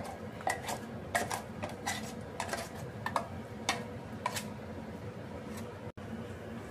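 Metal utensils clink and tap against a bowl as ground lentil paste for kanji vada is scooped out and beaten, a scattered run of light, close knocks over a low background hum.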